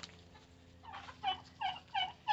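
A turkey gobbles in quick repeated bursts, three or four rattling calls close by in a quiet enclosure, with no talking.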